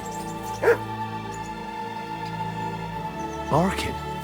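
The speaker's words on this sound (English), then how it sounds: "Barking." Two short dog barks or yips from the video game Kingdom Come: Deliverance 2 sound about three seconds apart, moderately loud over a steady background hum, with someone speaking around them.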